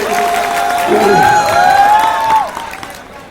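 A festival audience applauds and cheers after a Marathi poetry recitation, a steady crowd roar with shouting voices on top that fades out near the end.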